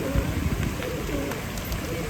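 Pigeons coo softly in Jephson Park, Leamington Spa, low murmuring calls blended into a steady outdoor background hiss.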